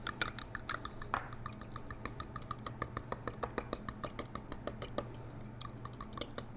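An egg being whisked into a quarter cup of milk with quick, steady clicks of a utensil against a bowl, a faint and regular tapping with no one speaking.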